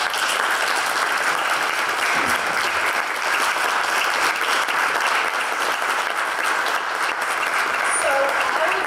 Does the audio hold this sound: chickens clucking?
no